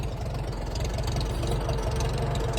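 An IH Farmall M tractor engine idles with a steady, close low-pitched chug and an even rumbling pulse that holds throughout, with no talk.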